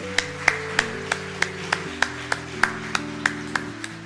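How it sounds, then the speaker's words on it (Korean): A church congregation at a Korean worship service claps in welcome, a steady, evenly spaced beat of about a dozen claps over sustained keyboard chords. "우리 축복의 박수로 환영할까요?"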